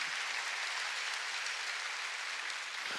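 A church congregation at a Sunday worship service applauds in a steady, dense wash of clapping that lasts the whole stretch, fairly loud and even, with no voices over it.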